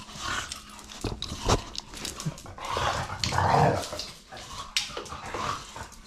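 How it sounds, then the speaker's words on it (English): Dogs playing indoors, a busy, close mix of growls, pants, scuffling and whimpers that rises and falls throughout without a break. "And the dogs are just going crazy."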